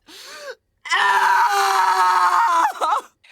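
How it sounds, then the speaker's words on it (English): A woman in an animated TV drama lets out a loud, drawn-out anguished scream of pain, preceded by a short wail and ending in a ragged gasp, with no other voices. "That scream is so much more than just physical pain."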